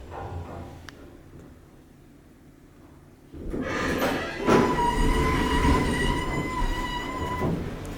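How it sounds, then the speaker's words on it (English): An old, rusty 1980s Dover hydraulic elevator motor starts after a quiet stretch with faint mechanical clicks, then runs as a loud steady hum with a clear tonal whine and a rattling thump near the start. "The motor on this thing is pretty epic."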